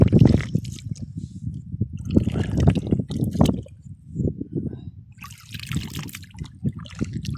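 Water from a running tubewell, pumped to irrigate a vegetable patch, splashes and trickles close by in an uneven, continuous gush with bursts of spattering.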